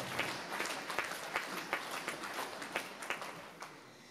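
A concert audience at a jubilee concert applauds an ensemble with scattered, fairly faint hand claps that come in an uneven rhythm and fade near the end.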